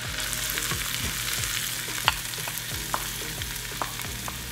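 Poblano pepper, minced shallots, cilantro and green onion sizzle steadily in a hot pan, with a constant frying hiss broken by a few soft stirring clicks and pops, close and alone.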